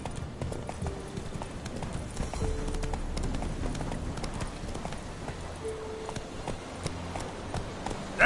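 Roach, a horse in The Witcher 3 video game, gallops with a steady, fairly quiet run of rhythmic hoofbeats under a faint ambient game backdrop, with no speech.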